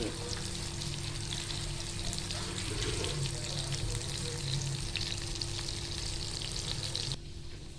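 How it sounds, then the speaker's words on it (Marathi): Oysters deep-frying in hot oil give a loud, steady, close-up crackling sizzle that runs without a break, with faint low background hum beneath. "त्या आपण पुन्हा एकदा आता कालवत तळायला टाकले"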